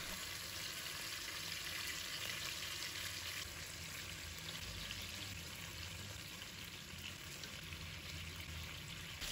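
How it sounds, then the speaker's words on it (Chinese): Chicken pieces pan-fry over medium heat, a faint steady even sizzle with a soft continuous hiss throughout and no talk. "全程一定要中火煎，把这个鸡肉的表面煎成那种焦黄色"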